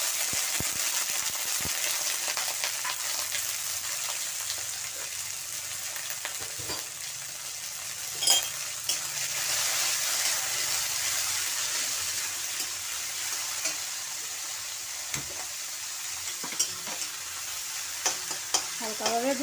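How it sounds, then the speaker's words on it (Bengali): Light frying in a pan while cooking sweet basanti pulao, a steady crackling sizzle throughout with occasional stirring scrapes and utensil knocks, close and fairly loud. "হালকাভাবে ভেজে নেব"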